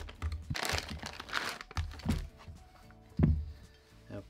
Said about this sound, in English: These are the supplied feet or stand for the TV, so I'm just going to unwrap them quickly